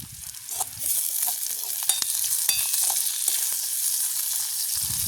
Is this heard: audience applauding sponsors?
no